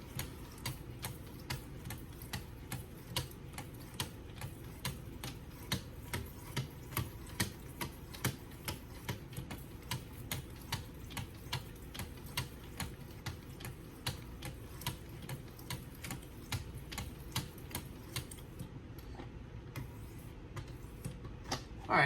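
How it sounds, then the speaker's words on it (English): A Hampton Forge kitchen knife is sharpened on a 3000 grit whetstone. Quiet, even strokes tick along at a steady quick rhythm for over twenty seconds, close but faint, with no talking. "You can kind of feel it as you run the stones past the bevel at the edge"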